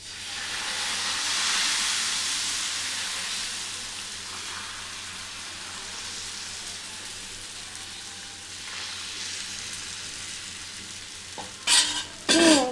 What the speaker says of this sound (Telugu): అట్టు పోసుకుందాం పోసినప్పుడల్లా ఇట్లా కలుపుకుంటూ పోయాలి